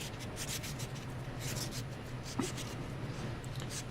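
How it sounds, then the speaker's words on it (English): A slot car axle is deburred with a light, continuous rubbing and scraping sound, faint and close, with a few brief ticks, and no voices. "Deburring the axle,"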